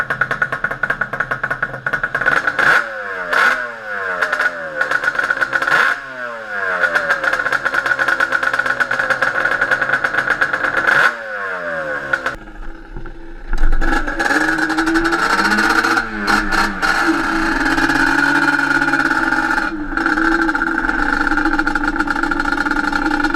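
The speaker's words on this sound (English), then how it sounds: "this was basically just my last test startup and idle before I went for the test" A rebuilt Banshee engine starts with a few cranking attempts, then settles into a loud, steady, buzzing idle heard up close, with occasional revving and dips in between.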